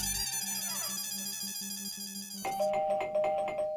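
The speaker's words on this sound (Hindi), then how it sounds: "अरे काय आज घंटीवर घंटी वाजतीये." An electronic doorbell chimes its tune clearly, then rings again with a bright repeated tone, loud and close.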